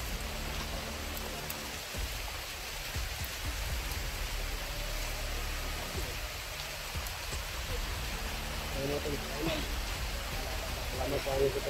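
Heavy rain pours down in a steady, dense roar that fills the whole stretch, with faint voices underneath.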